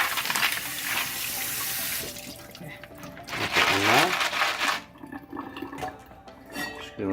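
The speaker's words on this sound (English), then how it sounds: "I'm going to wash any further impurities off of their flesh, their skin, their shells." A tap runs onto escargot snails in a pot as they are rinsed under flowing water, a loud gushing stream with splashing and clatter that rises and falls, then gives way to quieter drips and rattles near the end.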